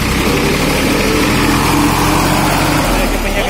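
A modified Escort 355 DI tractor engine runs at a farm, a loud, steady, close diesel drone that stays constant throughout with a rough broadband roar, with a voice faintly underneath.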